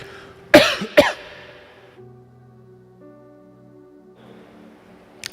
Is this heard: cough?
yes